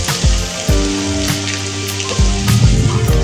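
Sliced onion and french beans stir-fried in a pan, with a continuous crackling sizzle and several clanking strokes from stirring, close and fairly loud.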